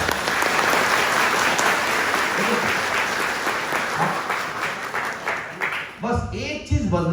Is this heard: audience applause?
yes